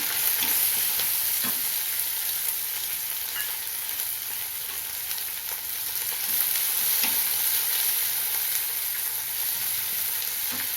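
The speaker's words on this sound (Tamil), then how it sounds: "கடுகு உளுத்தம் பருப்பு தாளிச்சிக்கலாம் வெங்காயம் போட்டுக்கலாம்" Mustard seeds, urad dal and onion fry in hot oil for a tempering, making a continuous close sizzle with small pops and crackles throughout.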